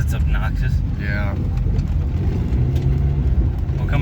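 Stock turbocharged Honda Accord F22 engine running steadily on a test drive with an open hood stack, a loud continuous low rumble throughout while people talk over it.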